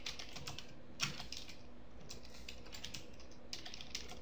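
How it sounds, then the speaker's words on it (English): Rapid, continuous typing on a computer keyboard, close and clear, with quick irregular key clicks and no talking. "first let us type the message"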